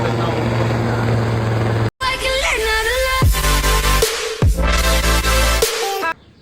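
A helicopter's rotor and engine drone steadily nearby at Juhu Beach, loud and continuous, with a couple of low thumping bursts and a short break near the start.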